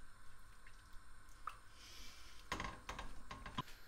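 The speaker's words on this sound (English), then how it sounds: "Right, that's boiling." Liquid bubbling in a pot, with occasional soft plops and pops over a low background hiss.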